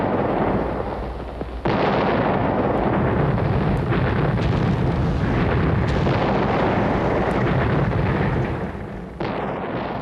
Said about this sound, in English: there's no words can describe a barrage.